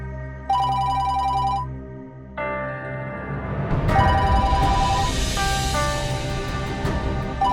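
Telephone ringing in a home scene of a Pakistani TV drama, loud repeated electronic ring tones with brief gaps between bursts, joined partway through by a dense music backdrop.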